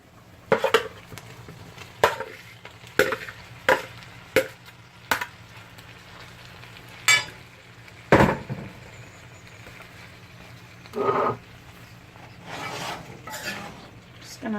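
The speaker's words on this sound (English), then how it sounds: "So we're going to go ahead and stir this in" Shrimp being stirred into a coconut curry in a pan for about eight servings, with scattered spoon scrapes and clinks against the pan over a low sizzle, and a person talking briefly.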